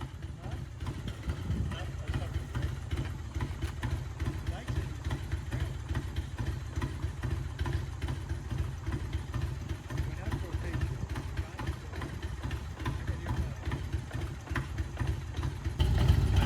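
A 1994 motorcycle engine idles in an outdoor group ride send-off. The low, even rumble stays steady and close for the whole stretch.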